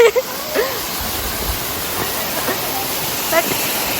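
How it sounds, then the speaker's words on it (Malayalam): Adavi waterfall in Kerala runs full and fast, a steady broadband rush of water close by with a voice speaking over it. "ഇത് അടവി വെള്ളച്ചാട്ടമാണ് പക്ഷെ ഇവിടെ ഞാൻ കാണിച്ചു തരാം നല്ല ഒഴുക്കുണ്ട് ഗായ്സ് ഒരുപാട് വെള്ളമുണ്ട്"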